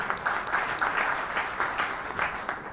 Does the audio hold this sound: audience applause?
yes